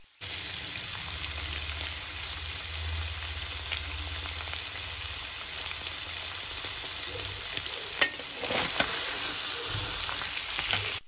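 Paneer frying lightly in hot oil gives a steady, even sizzle that runs unbroken throughout, with a few sharp pops and clicks near the end and no voices.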